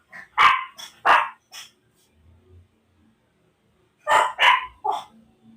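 An agitated dog barks sharply in two bursts, three loud close barks, then a pause with faint sounds before three more angry barks.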